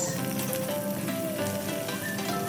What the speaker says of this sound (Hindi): फिर हम उसमें डालेंगे बारीक काट के रखी हुई प्याज